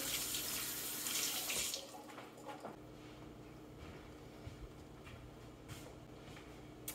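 A kitchen tap runs loudly for under two seconds while hands are rinsed during turkey preparation, then shuts off, leaving faint drips and small clatters in a quiet room.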